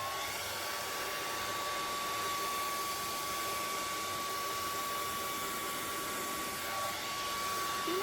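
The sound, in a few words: hair dryer blowing on acrylic pour paint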